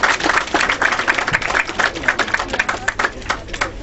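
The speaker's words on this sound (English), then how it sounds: "Come on, big round of applause" A ceremony crowd in London applauds a Maths Department supervisor at a graduation for Somali students, a loud, sustained burst of clapping that continues without a break.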